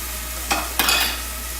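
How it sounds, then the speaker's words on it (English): Garlic salt is being mixed into chickpeas and broccoli in a bowl or pan: two brief, close scraping stirs, the second longer, over a steady low hum with no talking. "Go ahead and mix that up"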